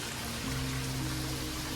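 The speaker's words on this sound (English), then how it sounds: "Sort of natural waterfall." A small natural waterfall pours into a cedar wood hot spring bath in Japan, a soft, even rush of splashing water heard close and continuous.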